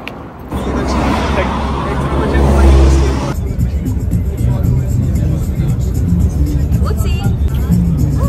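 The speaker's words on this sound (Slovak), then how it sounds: "Tu už sme v našom influencerskom autobuse." A moving bus full of influencers rumbles with steady, loud engine and road noise, a brief surge of louder low roar early on, and faint background chatter from passengers throughout.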